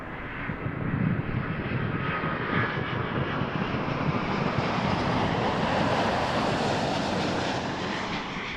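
Airliner taking off from runway 23 at Toronto Pearson Airport, a broad roaring jet engine rush heard from a distance that swells and holds steady across the clip.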